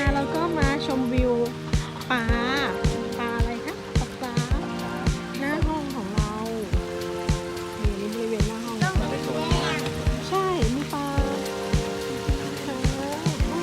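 Rain falls at a riverside resort in Kanchanaburi, Thailand. A steady patter continues throughout, close by, beneath voices and tonal background sound.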